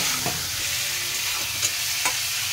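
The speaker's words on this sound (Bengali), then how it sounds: "দিয়ে এবার এগুলো সব একসাথে কষাবো" Fish with turmeric and salt fries in a pan, a steady bright sizzle with a few scraping stirs of a spatula, close and alone.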